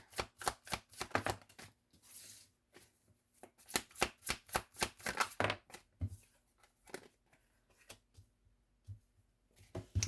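Tarot cards are pulled and flicked from a deck in quick papery bursts of crisp snaps, pausing briefly before another rapid run, all quiet and close with no voices.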